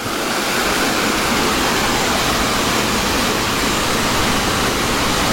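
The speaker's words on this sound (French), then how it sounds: "Petit ruisseau juste avant" A small stream in the Masevaux valley in Alsace rushes in a constant, dense wash of water noise, close and loud with no pauses or voices.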